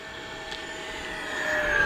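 An F-15 Eagle jet engine at full throttle in a video game, a steady whooshing roar with a thin high whine that swells gradually louder, with no voices.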